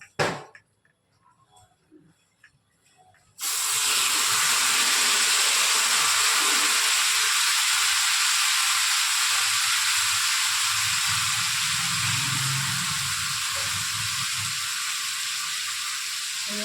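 A few quiet clicks and clatters, then a sudden loud sizzle as food hits a hot pan. The frying hiss stays steady and close.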